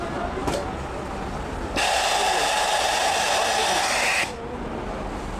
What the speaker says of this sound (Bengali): আমরা এখন সেলাই করি সেলাই করে দেখি আমাদের মেশিন সেলাই ঠিক আছে কিনা